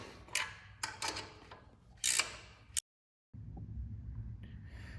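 Twelve-millimetre engine bolts on a Mototec Mud Monster 98cc go-kart are loosened with a wrench, giving several sharp metallic clicks and ratcheting scrapes in bursts, then a pause and a low mechanical rumble, close by.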